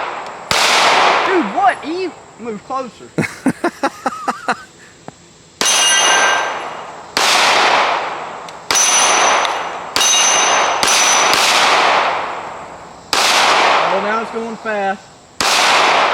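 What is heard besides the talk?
Springfield Echelon pistol shots hitting steel Texas Star target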